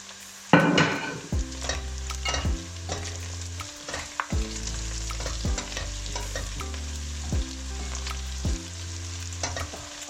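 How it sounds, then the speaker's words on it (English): Seasoned pork belly fries in a pan while being stirred, rhythmic scraping strokes of a utensil repeating over a loud, close sizzle, with no voices. "Make sure you get all of that seasoning. Mix it around good."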